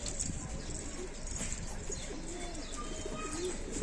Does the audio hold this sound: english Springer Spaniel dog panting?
no